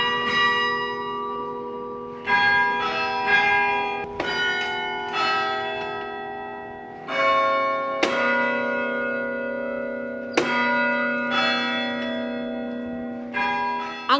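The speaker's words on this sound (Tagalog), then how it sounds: "Hindi katulad sa ibang carillon bells na electronic na. Ang sa St. Clement's, mano-mano pa ring pinapalo ni Jan Jan." St. Clement's carillon bells, struck by hand from a large wooden keyboard, ring out in separate strikes every couple of seconds with long, overlapping resonant decays and no voices.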